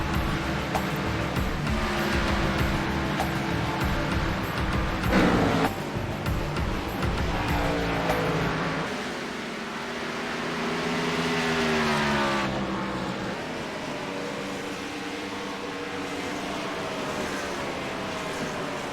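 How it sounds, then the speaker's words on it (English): A race car lapping a speedway, its engine roaring near and steady, then rising and falling in pitch as it passes and circles, without commentary. "Let's watch Daniel Smallwood motor around this speedway"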